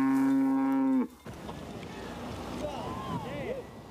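A cow moos once, loud and close, a long sustained bellow on a drought-dry farm, followed by fainter, higher calls from other cattle in the distance.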